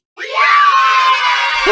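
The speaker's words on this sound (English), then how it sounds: "We have to get a better cheer sound." Crowd cheering sound effect triggered from a button, a short burst of loud shouting and screaming voices that rises abruptly, holds briefly and cuts off.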